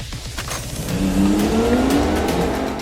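An original Porsche 911 Turbo engine revs and accelerates nearby, its pitch climbing as it pulls away, loud and close.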